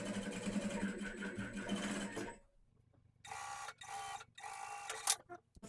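Sewing machine stitching fabric for a reversible bucket hat: a close, steady mechanical whir, then a short pause and several quick bursts of stitching with a sharp click near the end.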